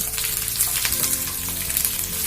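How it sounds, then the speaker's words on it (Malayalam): Sliced shallots frying with curry leaves in hot oil in a pan for Kerala cabbage thoran, a steady close crackling sizzle with faint stirring. "ഇതിലേക്ക് ചുവന്നുള്ളി അരിഞ്ഞു വെച്ച് ചേർത്ത് കൊടുക്കാം"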